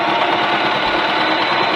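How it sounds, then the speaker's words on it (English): A sewing machine runs steadily as it stitches along the edge of blazer fabric, a loud, continuous whirring motor drone with a fast mechanical rhythm and no pauses. "now it's time to get this into the sewing machine and start sewing"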